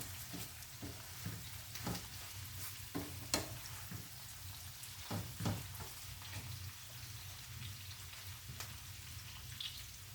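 Onions and peppers sauté in a pan beside cooking sausages for a breakfast casserole, a continuous crackling sizzle broken by scattered spatula clicks and scrapes, close and fairly loud with no talking.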